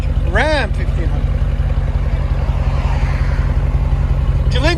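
A 2017 Ram 1500 with a 5.7L V8 and a muffler delete idles with a deep, loud, steady exhaust rumble, while a person's voice briefly speaks at the start and again at the end.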